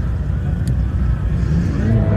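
Car engine idling and rumbling at a drag race meet, a steady low drone held throughout at close range with crowd noise and a voice in the background.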